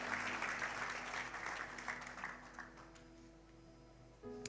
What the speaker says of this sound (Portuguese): Dê um forte aplauso ao Senhor